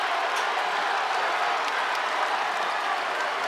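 A large arena crowd applauds at a North Carolina versus NC Central college basketball game, with dense, steady clapping that stays loud and even throughout.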